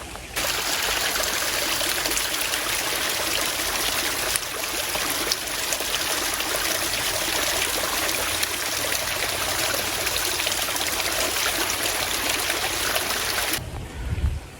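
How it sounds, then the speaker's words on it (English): A small stream trickles and babbles steadily on a hiking trail near Great Falls, South Carolina, a continuous close water wash with no voices, cut short at the very end by a brief louder rustle. "see if I can get some really silent little streams"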